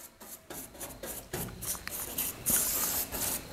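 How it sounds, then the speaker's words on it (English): A rag rubs patina coating onto the metal body of a 1951 Chevy rat truck, producing close, uneven scuffing and rasping strokes in irregular bursts, with a brighter hissy swipe partway through. "So important to rub it in with a rag."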